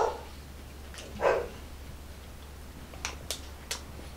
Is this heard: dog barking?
yes